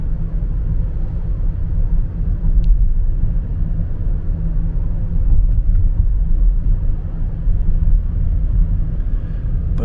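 A car drives along a road toward the beach, heard from inside as a steady loud low rumble of engine and tyres with no talking.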